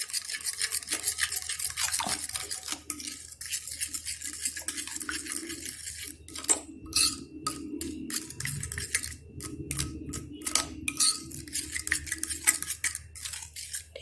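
A spoon stirs yogurt masala seasoned with chaat masala in a bowl, making steady scraping and clinking sounds in quick repeated bursts, close and fairly quiet.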